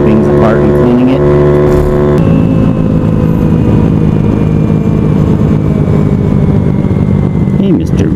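A large motorcycle passing on a street, its engine drone rising and sweeping past close by at steady loudness over several seconds, blended with other traffic noise.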